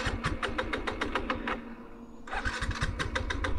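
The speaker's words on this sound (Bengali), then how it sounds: "এখন দেখছো আর স্টার্ট হচ্ছে না।" A Suzuki Gixxer 155 motorcycle with a starting fault cranks over and over in rapid, even bursts that never catch into an idle, broken by a brief pause partway through, then cranking resumes, close and fairly loud.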